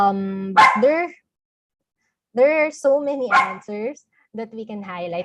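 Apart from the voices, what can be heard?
dog barking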